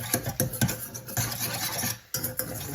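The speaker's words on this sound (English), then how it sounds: "now we're going to whisk in a little bit of beef stock, which is going to make kind of a slurry sauce" A whisk stirs cornstarch into beef stock for a beef and broccoli flatbread sauce, giving a steady close scraping and rasping with quick repeated strokes that pause briefly near the end.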